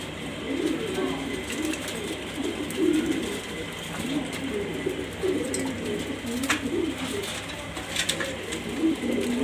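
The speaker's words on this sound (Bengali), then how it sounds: "দেখতেই পারতেছেন মাশাআল্লাহ কবুতরগুলো" Pigeons coo softly and repeatedly against a steady background hum, several birds murmuring in low, rolling calls with occasional faint clicks and no clear talk.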